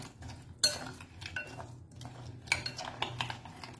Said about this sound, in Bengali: খুব ভালো করে এটা আমি মিশিয়ে নেব